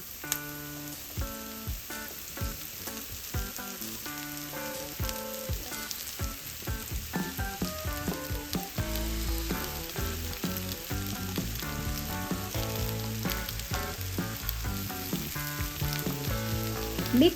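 Potatoes with turmeric, garam masala and coriander powder frying in a pan, a dense crackling sizzle that grows louder and steadier as stirring goes on, no talk.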